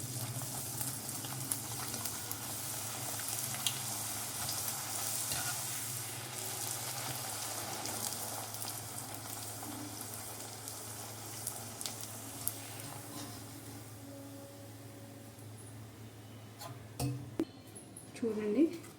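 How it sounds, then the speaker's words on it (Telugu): Masala puris frying in hot oil give a steady, moderate sizzling hiss that runs throughout, with a few sharper clatters and bubbling bursts near the end. "ఈ విధంగా పూరీలన్నిటిని కూడా ఫ్రై చేసేసుకోవాలన్నమాట"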